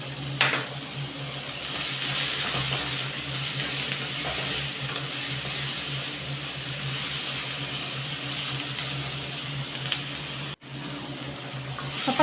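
Capsicum, tomato and other vegetables sizzle in a pan with pink Himalayan salt, a continuous crackling fry with scraping stir strokes and one short dropout near the end.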